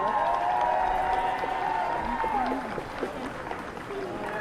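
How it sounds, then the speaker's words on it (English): Audience applause for a percussion section at an outdoor early American days parade in a small village, a steady wash of clapping and crowd noise with faint brass tones and a voice underneath. "Give the percussion section one more round of applause."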